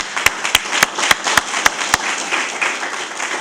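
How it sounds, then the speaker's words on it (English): Applause at the Avena Bella housing grand opening for EAH Housing, starting with a few sharp, evenly spaced claps and settling into steady, moderate clapping from a small audience. "I think we should applaud EAH again for this outstanding job that they've done here"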